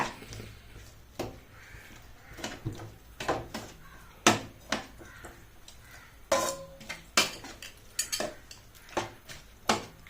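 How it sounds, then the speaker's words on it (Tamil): Potato masala being stirred in a pot with a spoon, heard as repeated metallic clinks and scrapes at an irregular, fairly brisk pace, close and moderately loud, with no talking. "இப்போ இதுல கலக்கணுங்க. இப்போ இந்த வேற கரண்டி எடுத்துக்கலாங்க."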